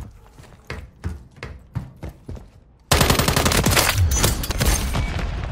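Rapid automatic gunfire in a first-person shooter match on a scrap yard map, starting after a few scattered shots and then a sustained loud burst close up.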